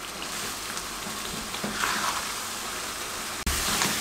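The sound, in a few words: masala brinjal and besan curry cooking in a pan on medium-low flame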